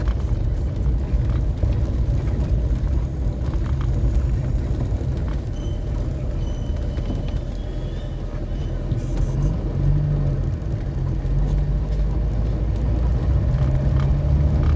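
A car drives slowly over a parquet-style cobblestone street in central Rize, Turkey. The tires give a loud, continuous rumble and vibration throughout, with a low engine hum underneath.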